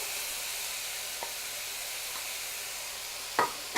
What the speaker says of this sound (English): I'm going to add 2 medium onions that I've minced